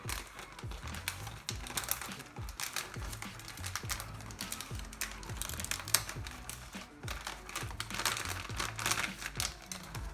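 Plastic packaging from a Cooler Master vertical graphics card holder kit is torn open and handled, giving a continuous stream of quiet crinkles and crackles with small sharp snaps throughout.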